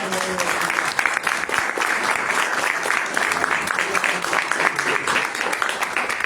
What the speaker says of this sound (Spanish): Yo pido un aplauso para Fernando No. y para toda la